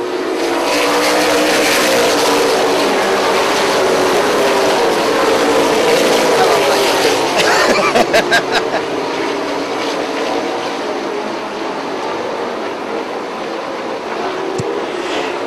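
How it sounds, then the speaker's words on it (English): Late model race cars roaring past on a green-flag restart, a dense engine drone rising and fading as the pack passes, with a few sharp clatters midway and crowd noise behind. "Green flag's out, we're racing."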